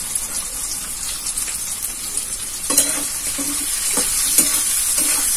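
Soybean chunks with sugar, chili powder and Kashmiri chili powder are stirred in a frying pan, a loud continuous sizzle broken by several distinct scraping strokes of the spatula.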